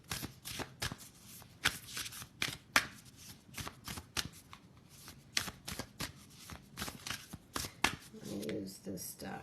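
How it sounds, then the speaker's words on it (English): An oracle card deck, the Sacred Destiny Oracle, is shuffled over and over in a run of quick riffling bursts. The shuffling is close and clear, and talk is heard alongside it. "I'm going to also shuffle again this one"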